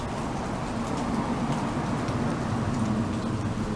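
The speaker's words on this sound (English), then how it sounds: "it's only just started raining" Steady rain falls outside a house at the start of a thunderstorm, a continuous, even hiss of drops on surfaces that holds at a constant level throughout with no voices.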